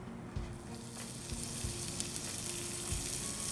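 Finely chopped onion and cashew nuts fry in a pan in hot oil, giving a close, steady, crackling sizzle with small pops throughout.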